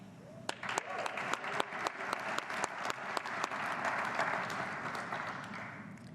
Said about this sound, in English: feel free to cheer and applaud in the theater and at home